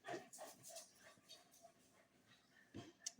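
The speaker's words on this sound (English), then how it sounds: "sounds like that dog's getting into stuff" A pet dog indoors gives faint, scattered yips and whimpers with some short barks, distant and low in level against a quiet room.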